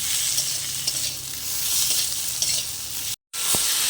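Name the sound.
chopped tomato being stirred and fried in a pan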